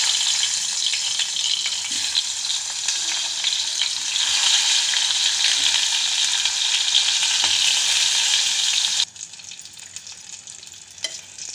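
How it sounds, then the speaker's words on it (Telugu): Stuffed eggplants filled with ground masala, Andhra gutthi vankaya style, sizzle loudly in hot oil in a pan, a steady close hiss that drops suddenly to a quieter crackle near the end. "దీన్ని మనం ఆయిల్లో వేసి ఫ్రై చేయాలన్నమాట."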